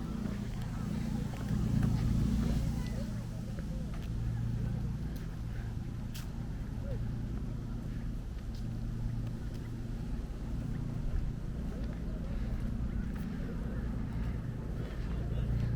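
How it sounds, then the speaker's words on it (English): A boat passes on a river in Osaka during cherry blossom season, its low engine rumble steady and moderately distant, mixed with wind buffeting the microphone and faint background voices. "There's another boat."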